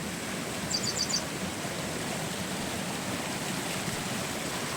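Floodwater from heavy rain rushes through a small Konkan village river that has overrun nearby farm fields, a steady, dense roar that never lets up, with a few faint bird chirps early on and no voices.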